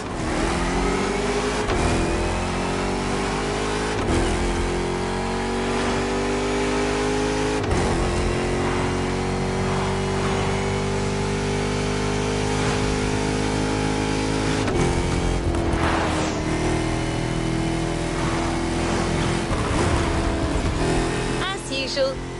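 Engine of a drifting car in The Crew Motorfest, a steady mid-pitched drone with shifting revs held throughout, running under continuous narration.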